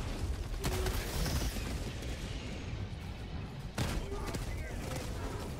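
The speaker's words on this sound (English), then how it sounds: "An airstrike going out on the charger." An airstrike gun run in the video game Helldivers 2 gives dense rattling bursts of rapid fire and booming impacts, a sharp new burst cutting in partway through, with voices faintly underneath.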